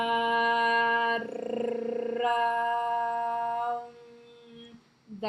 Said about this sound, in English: That is a mantra. That is the sound of a mantra,